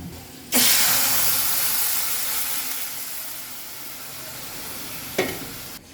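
Dal with spinach, onion and garlic hits hot oil in a wok with a sudden loud sizzle that hisses steadily and slowly fades, with a brief second splash near the end.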